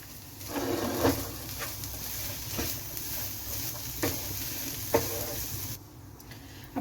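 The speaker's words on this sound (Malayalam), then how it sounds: "നമ്മൾ ചിക്കനിലേക്ക് സവോളയും തക്കാളിയും ഇട്ട് ജസ്റ്റ് ഒന്ന് മിക്സ് ചെയ്തു" Chicken, onion and tomato being stirred in a pan, a soft sizzle under a few scraping and clunking strokes of a spatula, fairly close, with a knock at the end.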